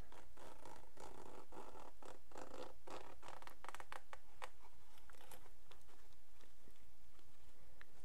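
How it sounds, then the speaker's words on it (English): Zipper on a Nintendo-branded drink bottle holder being worked in short scratchy strokes, several close, quiet rasps in a row followed by softer fiddling. "it has a zipper."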